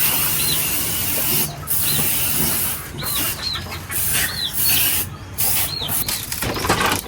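A sprayer hisses steadily outdoors beside a bamboo hut at a fishpond, with the broad spray noise surging and dipping throughout while small birds chirp now and then in the background.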